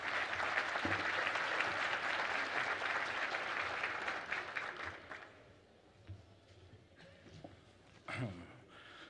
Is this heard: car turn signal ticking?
no